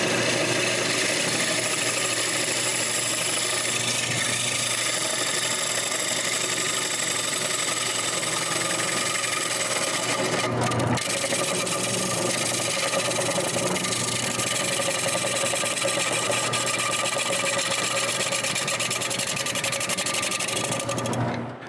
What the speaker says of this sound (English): install the chuck on the lathe, and then the plate. Now I can make the front of the plate straight.